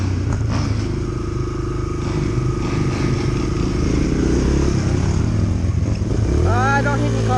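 Dirt bike engine idles and putters close by after a bump start, a steady throbbing rumble with a rising rev near the end as a voice talks over it.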